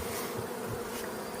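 Honeybees buzz at the hive in early spring, with the colony already raising brood. A dense, continuous drone of many bees hums steadily and fairly quietly, with no voices.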